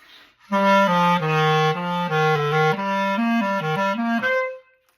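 An alto clarinet plays a short legato phrase of stepwise notes, close and full-toned, ending on a held note that fades out, with silence before and after.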